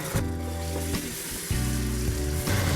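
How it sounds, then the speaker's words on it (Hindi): Onions sizzle loudly in a pan as garlic ginger paste is stirred in for a mixed vegetable curry of potatoes, peas and carrots, a continuous close frying hiss broken by short scraping stirs. "अब हम इसमें लहसुन अदरक का पेस्ट ऐड करेंगे और इसको भी हम अच्छी तरह मिक्स करेंगे"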